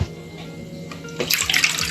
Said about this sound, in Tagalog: Unahin natin ang water, fresh water natin.